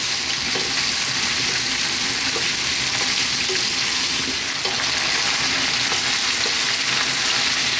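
Chunky potatoes sizzle and fry in a pan with onions and garlic for a chicken potato stew, a loud continuous crackling hiss with occasional small pops and stirring clicks.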